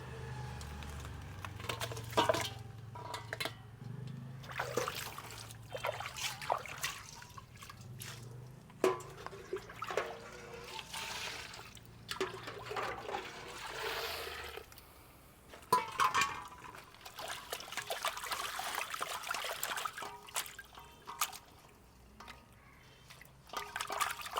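Water splashes and trickles in bursts as large prawns are rinsed with hot water, with intermittent clatter and dripping over a long stretch; no talking.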